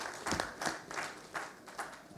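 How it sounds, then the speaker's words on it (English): Sparse clapping from a small audience after a plenary lecture at a surgical conference, a few hands beating in loose bursts, moderately distant and fairly quiet. "let's thank with applause"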